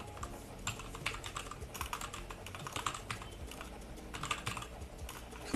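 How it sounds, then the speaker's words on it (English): Someone types slowly on a computer keyboard during a full-stack coding session, making quiet, irregular clusters of keystroke clicks with no voices. "A very slow typer."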